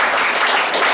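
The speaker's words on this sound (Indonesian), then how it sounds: "Kita beri tepuk tangan buat Tuhan Yesus." A church congregation applauding during a worship sermon, a brief, loud, dense wash of many hands clapping together.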